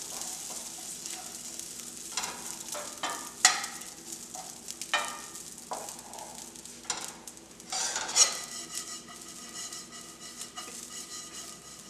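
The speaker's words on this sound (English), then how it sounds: "Now we're actually going to add the rice in. Just kind of stir thoroughly and get it all mixed together." Rice being stirred thoroughly into a vegan stuffed red pepper filling in a pan, giving a soft sizzle under repeated scraping strokes and light clinks of a utensil against the pan, with no talking.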